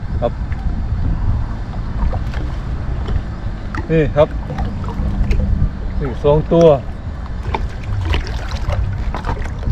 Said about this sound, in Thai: ลมมาได้แล้วพี่น้อง